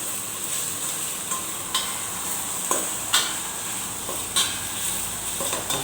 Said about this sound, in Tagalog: Haluin